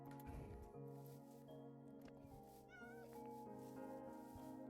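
A cat meowing in the video game Minecraft, a couple of short meows over a steady hum of game background sound.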